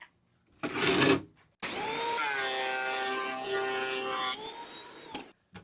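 A brief burst of machine noise, then a loud, steady whining roar, about 96 decibels, of a helical cutter head planer taking a normal cut in wood for several seconds before it stops.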